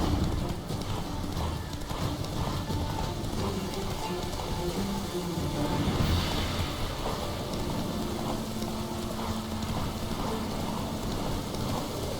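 Roach the horse gallops in The Witcher 3, hooves drumming in a fast continuous rhythm under a steady wash of rain, close and moderately loud.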